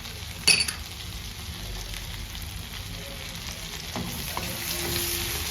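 Asafoetida and chili powder hitting hot oil in a pan for spinach daliya khichdi, a sharp clink at first, then a steady, moderate sizzle close by with light stirring.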